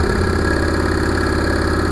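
A Singer Red Eye sewing machine running fast and steady, its motor whirring with a dense, even mechanical chatter that stays close and loud throughout with no pauses.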